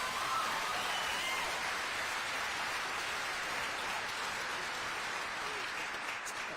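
Steady applause fills a school auditorium at a senior scholarship event, a dense, continuous patter of clapping hands that holds at an even level for the whole stretch without any talk over it.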